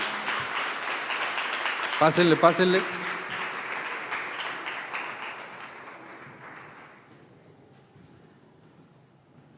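Church audience applauding the disciples in a boat-themed stage setting, a burst of clapping and cheers mixed with talk, swelling briefly and then fading away to quiet.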